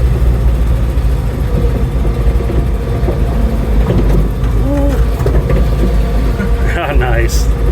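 A 1997 Honda Civic coupe engine hums loudly while the car is driven down the road in second gear, a steady low drone running throughout with faint voices mixed in.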